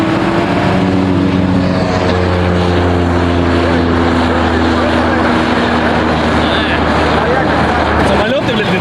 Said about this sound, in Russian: Самолеты, блядь, летают.